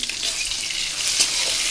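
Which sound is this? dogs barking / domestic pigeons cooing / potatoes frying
potatoes frying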